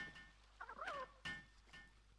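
A chicken-like creature in the game Palworld clucks and squawks in a short, faint burst of a few calls, alone, with a couple of soft thuds around it.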